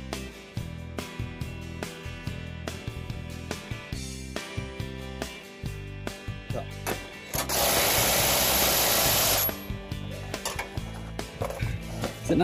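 A torque wrench tightens hitch bolts on a REESE 20k Goose Box gooseneck hitch for a fifth-wheel setup. Rhythmic ratcheting clicks repeat close by in bursts, broken by a loud steady hiss in the middle.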